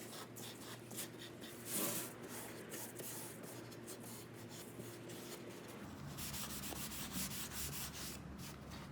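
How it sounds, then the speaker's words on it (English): A soft, dry lint-free cloth rubs excess wax off a centerpiece with close, continuous swishing strokes, quiet and steady. "take a soft, dry cloth, lint-free cloth, and wipe off the excess"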